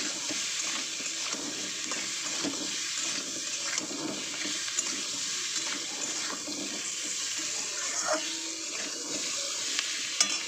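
Chicken posto is stirred in a pot, giving a steady, close, hissing and scraping wash of sound that barely changes for about ten seconds, with no talk.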